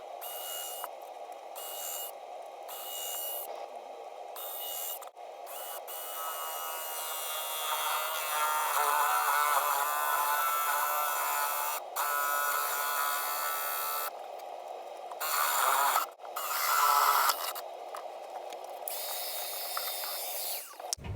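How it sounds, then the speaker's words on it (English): A power drill boring holes through the wooden lid of a keezer chest freezer, a sustained whining motor drone that rises and falls, broken by short pauses and clicks, close and loud without talking. "drill the holes through the bottom of the lid for that"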